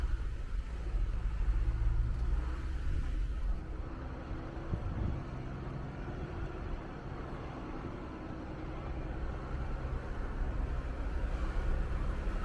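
A rental car drives off-road through a wildlife management area, its engine and tyres making a low, steady rumble with rattling bumps and no voices.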